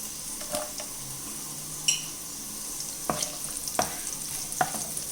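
Cashews and coconut pieces crackle gently in hot fat in a pan, with a soft sizzle under scattered stirring clatters and a few sharper clicks as raisins are dropped in.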